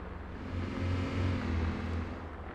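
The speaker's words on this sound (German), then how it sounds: "Jetzt gleich kommt der Motorsound dazu." Engine of a Porsche 718 Boxster Spyder in the City Car Driving game, a quiet low hum that swells slightly and settles, heard faintly on its own without talking.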